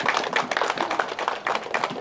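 Audience at an Indonesian speech gathering claps steadily for about two seconds, a dense patter of many hands, close and fairly loud, with no talking over it.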